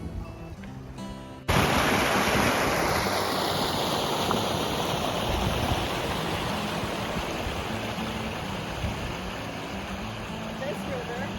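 River flowing past near Blarney Castle in Ireland, a broad continuous rush of water that cuts in suddenly and stays loud and steady, close by.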